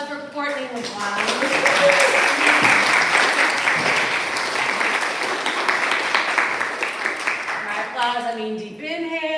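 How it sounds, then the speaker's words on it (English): Warm audience applause for poet Courtney LeBlanc at a poetry reading, steady clapping swelling and fading, with a voice speaking at the start and end. "One more round of applause for Courtney LeBlanc."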